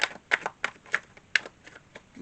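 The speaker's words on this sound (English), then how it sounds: "One more shuffle." Tarot cards being shuffled in a series of quick, crisp riffling snaps with short pauses between them, close by and fairly quiet.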